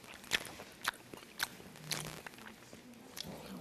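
Close-up chewing of chewy potato ongsimi dumplings, a series of soft, wet bites and squishy mastication sounds recurring roughly every half second, quiet and intimate.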